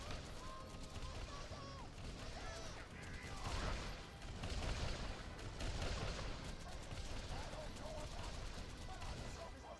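Steady gunfire from a player's weapon aimed at an unseen boss in a video game set in a snowbound Maya level, dense and continuous with swelling bursts and crashes, near and loud throughout with no talk.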